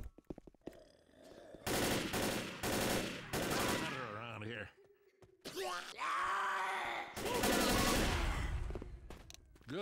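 Bursts of gunfire in the zombie shooter game Left 4 Dead come in several long volleys separated by short gaps, loud and close, with groaning creature sounds mixed in between the shots.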